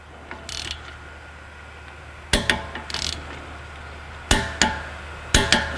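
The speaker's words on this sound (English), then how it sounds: "I hope you heard the torque wrench click" Torque wrench on a Dodge Journey brake caliper bolt gives three sharp metallic clicks, each a quick double snap, spaced about a second apart, close and clear over a quiet garage hum.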